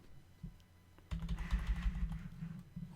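Computer keyboard typing: a faint start, then a denser run of rapid, soft key clicks close to a microphone, alone without speech.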